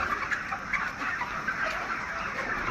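Broiler chickens on a poultry farm cluck in a dense, continuous murmur, many birds together at moderate distance, the calls overlapping without pause and no one speaking.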